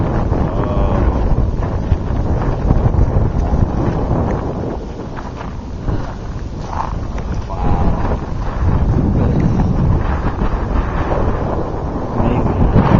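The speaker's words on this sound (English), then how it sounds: "That wind is something else." Strong, cold wind gusts across a volcano crater rim, buffeting the microphone in loud, rumbling surges that ease and build again over several seconds.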